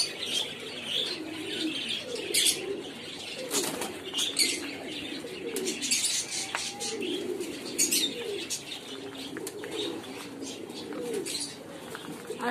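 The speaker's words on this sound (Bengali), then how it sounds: "এগুলাও দেশি কবুতর।" Local deshi pigeons at a pigeon farm coo in low repeated throbs, with wings flapping in sharp bursts and small chirps scattered over the sounds nearby.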